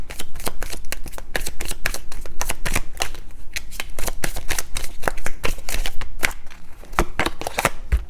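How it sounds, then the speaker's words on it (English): Lenormand cards being shuffled by hand, a rapid run of crisp riffling flutters and taps repeating steadily throughout, close and fairly loud, with no speech. "Let's get a Lenormand card for you."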